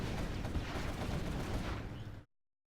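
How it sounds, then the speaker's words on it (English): Quad cannons in Command & Conquer Generals Zero Hour unleash dense, rapid automatic fire during a tournament match, a loud unbroken stream of shots that cuts off suddenly into silence. "Quad cannon coming in."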